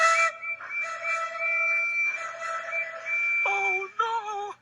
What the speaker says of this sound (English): Maybe we should blow our whistles.